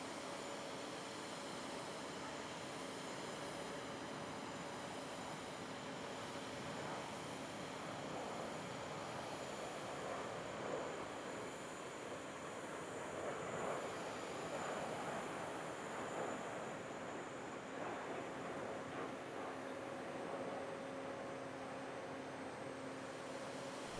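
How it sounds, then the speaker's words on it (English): Jet engine roar from an Etihad Airbus A380 followed by a Fly Dubai Boeing 737 MAX 8 at an air show display, a steady, distant wash of noise that swells slightly midway without clear peaks. "Then Etihad with one of their own A380s, trailed by a Fly Dubai 737 MAX 8."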